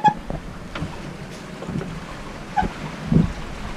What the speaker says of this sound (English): we got about 35 knots of breeze